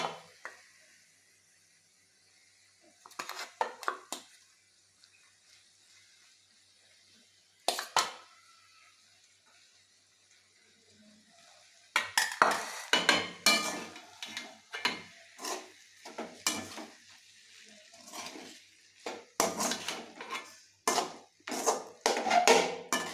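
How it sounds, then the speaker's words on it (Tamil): Vegetable biryani rice being stirred and mixed in a pot, heard as a series of scraping, knocking strokes in irregular bursts, sparse at first and then more frequent and busier, with no talking. "இந்த கலவையை நல்லா கலந்து விடலாம்"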